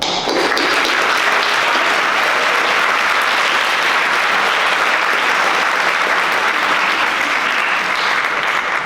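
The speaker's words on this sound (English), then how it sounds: "surely deserve an applause" Sustained applause from a large audience at a Model UN closing ceremony, a thick continuous wash of clapping that holds at an even loud level from start to finish.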